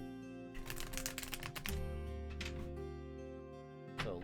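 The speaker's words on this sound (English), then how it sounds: "let me shuffle this down one last time" Tarot cards are shuffled in a quick flurry of crisp riffling clicks early on, faint and close, over a soft sustained musical tone.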